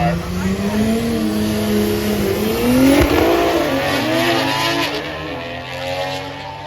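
Drag racing cars, a BMW among them, launch down the strip at an FL2K event with loud revving engines that rise and sweep in pitch, while an announcer talks over the roar.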